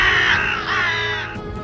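Several crows caw together in a loud, harsh, continuous racket, layered calls overlapping close by for the whole stretch, gathered around a dead crow.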